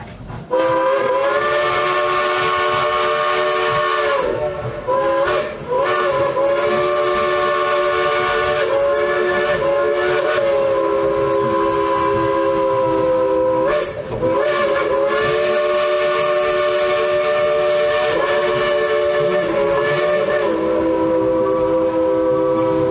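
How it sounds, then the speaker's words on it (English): The Crosby three-chime whistle of the Dollywood Express steam locomotive blows a long tune, with sustained loud chords broken by short gaps and pitch changes, close by and continuous, with no talk over it. "Would y'all like to hear the engineer play a tune on that Crosby three-chime whistle?"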